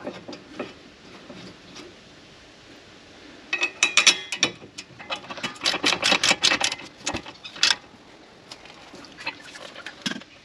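A ratchet tightens the brake caliper bracket bolts on a Holden Commodore front brake, giving bursts of quick, close clicking, sparse at first and then a denser run in the middle with short pauses.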